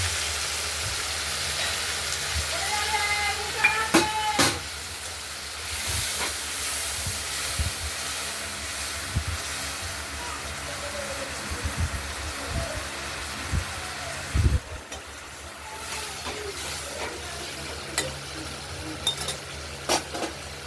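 Ground spice paste with turmeric hisses and sizzles steadily as it fries in a pan for paneer, potato and tomato curry, with occasional clinks and scrapes of a stirring spoon throughout.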